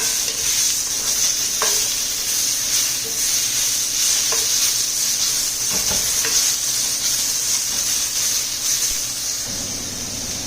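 Peppers and onions sauté in a hot pan, producing a steady, loud hissing sizzle with scattered clicks and scrapes from stirring that continue for the whole stretch, and no one speaks.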